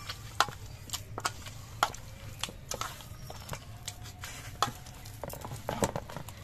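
Hands squeeze and knead rice flour dough with water for Bengali pitha, giving wet, irregular squelches and slaps at close range with a steady low hum behind them.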